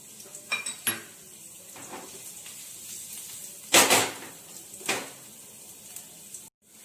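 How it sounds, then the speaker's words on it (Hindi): Garlic goes into a pan of olive oil while a salmon keto meal is cooked: scattered clinks and clatters of utensils against cookware over a faint low sizzle, with one louder metallic knock in the middle. "अब इसमें मेरा जाएगा गार्लिक"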